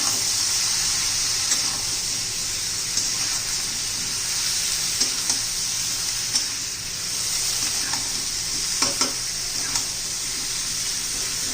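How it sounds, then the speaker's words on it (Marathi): Washed eggplant and potato pieces sauté in hot oil, a loud dense hiss of frying that runs throughout, with occasional soft stirring knocks close by. "वांगी बटाटे घालून घेऊ आपण पण तेलामध्ये छान असे परतून घेऊया"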